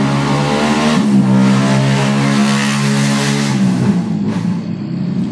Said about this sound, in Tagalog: So kung pakinggan natin yung tunog ng compressor niya, medyo may kalansing na siya.